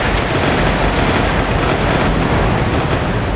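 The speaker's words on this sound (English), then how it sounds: "Some pretty accurate gunfire for an unguided gun" Naval gunfire and explosions in the warship game Sea Power, 1970s–80s Chinese and British warships in battle, form a dense, continuous roar of booms and rumble that stays loud and steady throughout.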